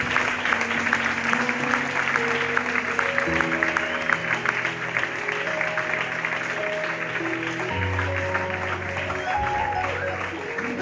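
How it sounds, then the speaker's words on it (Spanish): A church congregation applauds steadily for the whole stretch, a dense continuous wash of clapping with music or organ tones sustained underneath. "¿Quieres darle un fuerte aplauso a Dios?"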